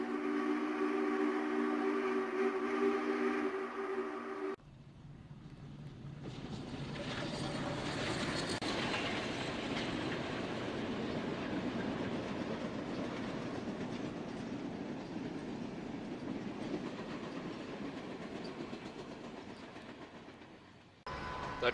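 A train running fast along the Elk Valley line rumbles past with a steady clattering roar that builds, holds for a long stretch, then fades away at the end.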